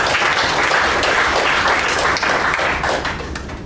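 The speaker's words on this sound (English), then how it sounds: "A very big round of applause for her Toastmaster." Applause fills a Toastmasters meeting room, a steady dense wash of many hands clapping close and loud for the full stretch, tapering slightly at the end.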